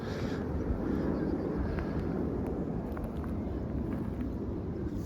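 Gusty wind roars steadily across a vegetable garden with onion beds, a loud, continuous broadband rush buffeting the microphone for the whole stretch without pause.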